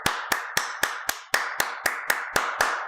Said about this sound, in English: I'll give you a big round of applause.